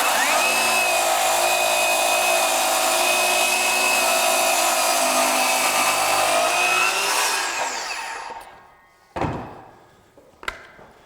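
Ryobi 18V ONE+ HP brushless 7-1/4 inch circular saw, model PBLCS300B, cutting with a loud steady high-pitched whine for about seven seconds, then spinning down, followed by two sharp thunks.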